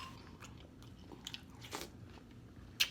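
Someone close by crunches and chews a mouthful of berry-flavored breakfast cereal in soft, irregular bites, quiet overall with a sharper crunch near the end.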